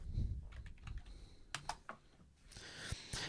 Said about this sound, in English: we'll type VIX